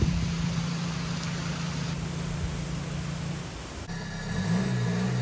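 Seat Arosa TDI with a 400+ horsepower engine revving hard while its wheels spin, a continuous loud engine roar and tire noise with a shift in pitch partway through, no talking.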